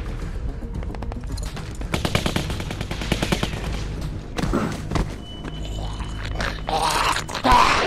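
Rapid machine-gun fire and gunshots from a post-apocalyptic video game, several bursts over about eight seconds with heavy thuds in between, loud and close, with no talk.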